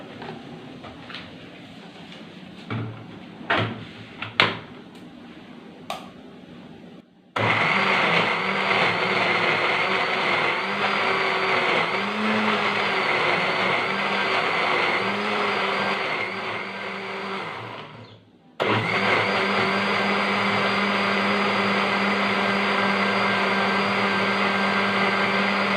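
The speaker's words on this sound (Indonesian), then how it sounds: "Sekali blender semula." A kitchen blender whirs loudly as it blends kue cucur badak batter, starting abruptly after some handling clatter, running steadily for about ten seconds, dipping briefly, then roaring on again.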